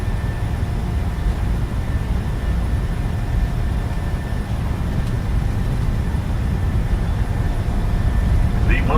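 Airliner engines roar steadily through a takeoff roll in Microsoft Flight Simulator 2020, a continuous loud rumble with a faint tonal whine that holds level for the whole stretch, with no talk over it.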